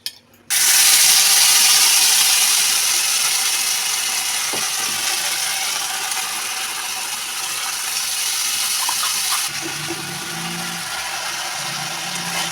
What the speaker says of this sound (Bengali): এইটা মিশিয়ে এবারে এই তেলের মধ্যে দিয়ে দেবো।